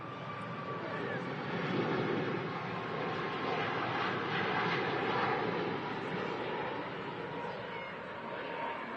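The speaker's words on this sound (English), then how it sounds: "This Ryanair 737-8200 off to Santander" A Ryanair Boeing 737-8200 departs Manchester Airport, its engines giving a broad, steady roar that stays loud throughout, swelling slightly mid-way as the jet climbs out, with a voice talking faintly over it.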